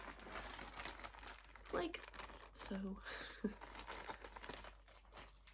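A plastic bag holding cross-stitch supplies crinkles and rustles softly at close range, with brief quiet speech.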